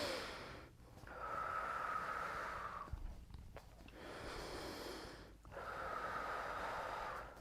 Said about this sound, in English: Take a few nice big breaths here.